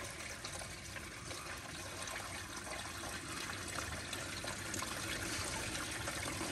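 Water pouring and splashing steadily out of a 1934 Oldsmobile hearse engine into a trash can, a continuous, fairly loud gush with no breaks, and no talking.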